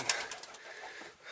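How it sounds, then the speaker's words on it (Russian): Soft pigeon coos repeat faintly in the echoing interior of an old minaret, with a few muffled rustles and no talking. "Надеюсь, что голуби нас не загадят."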